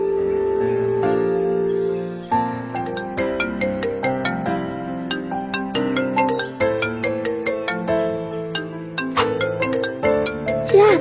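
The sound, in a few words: mobile phone ringtone, incoming call from unknown number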